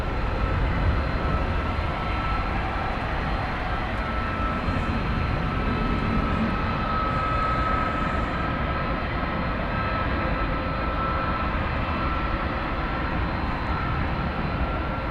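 A Boeing 777-200ER, built in 2001, roars loudly and steadily on its flight to Buenos Aires at DFW Airport, a continuous broadband jet engine rumble heard at a distance.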